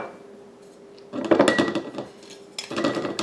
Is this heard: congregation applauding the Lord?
no